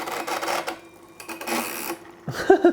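A 1959 Wurlitzer Sideman drum machine's mechanism running, a whirring, clattering mechanical drone with a few louder clicks and knocks near the end, close and fairly loud.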